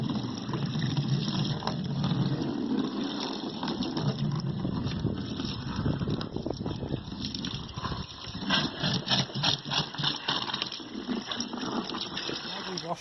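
Low-power pressure washer spray rinsing faded plastic car trim, a steady broad hiss of water gushing and splattering across the surface, continuous and close throughout with slight fluctuations.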